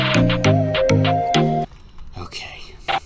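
Music dulled by an equalizer low-pass effect: a bright chiming melody with sharp ticks plays clearly for about a second and a half, then drops to a muffled, bass-heavy murmur.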